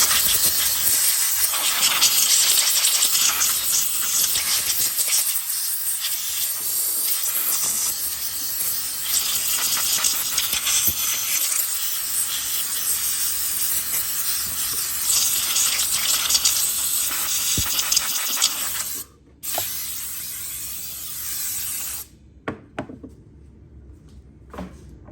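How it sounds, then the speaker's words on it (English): Compressed air blows a chainsaw clean in a loud, continuous close-up hiss with brief pauses and bursts, cutting off abruptly near the end. "Hit that with some compressed air."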